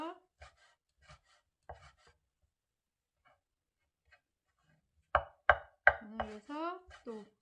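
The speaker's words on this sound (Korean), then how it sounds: "얇게 해서 채 썰어가지고 다져야지 빨라져요. 그래서 또 채 가늘게 일단 썰어요." A knife cuts vegetables into fine strips and minces them for a Korean jangguk-juk rice porridge, giving a few sparse, light taps on the board, then a quick cluster of cuts as someone talks.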